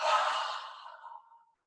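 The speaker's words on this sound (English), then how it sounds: "Lifting the chin, inhaling, and then exhaling with an open mouth." A single soft open-mouthed exhale during a mindful movement breathing exercise, close and breathy, tapering into silence over about a second and a half.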